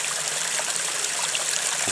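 A small mountain stream trickles steadily and close by, a continuous bright burble of water with no voices, on a hike along the Nugush river.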